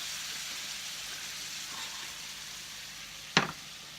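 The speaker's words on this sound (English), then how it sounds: "pour the Marsala on top. You're going to do it sizzle" Marsala wine sizzles in a hot pan for chicken marsala, a soft, steady hiss throughout, broken near the end by one sharp clank of a utensil or pan.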